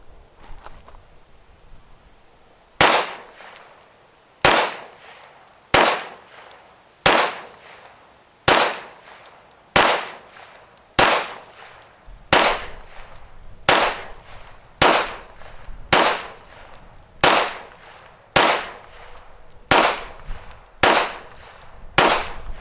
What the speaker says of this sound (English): We're going to shoot at the bottom left target.